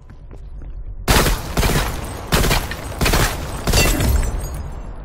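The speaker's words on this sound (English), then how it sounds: "Are you shooting him?" Bursts of video game gunfire erupt after a quiet opening second: four or five loud, dense volleys in quick succession, each hitting hard and then trailing off.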